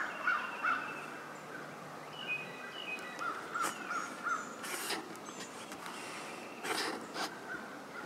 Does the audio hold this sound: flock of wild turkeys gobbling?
yes